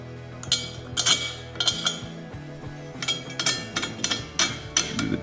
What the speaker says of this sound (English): So we'll put the carriage bolts through.